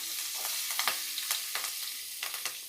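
Onions and green chillies stir-fried in a pan, with a soft, continuous hiss of frying and scattered light scrapes of the stirring spoon, fairly quiet and close.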